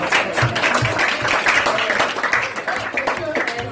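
Applause from a crowd of primary school children, steady clapping with cheering voices mixed in, loud and continuous throughout.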